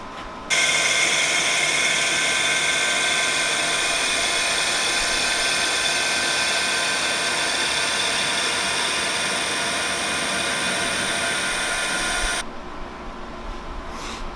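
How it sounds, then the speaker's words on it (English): A power tool cuts a hole into a shaving handle, a loud, steady high-pitched whine that starts abruptly, runs for about twelve seconds, then cuts off, leaving quieter room noise. "Probably cut the hole right now."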